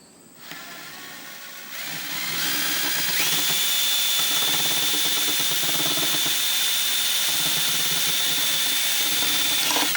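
A power drill spins up after a soft start and holds a steady, loud whirring whine for the rest of the clip.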